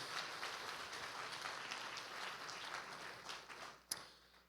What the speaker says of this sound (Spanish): Dale un aplauso a Dios fuerte por eso.